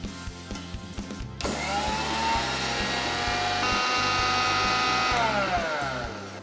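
A kitchen mixer grinder whirs loudly and steadily as it grinds sesame seeds, poppy seeds and coconut, starting abruptly after a few seconds of faint clicking and running continuously to the end.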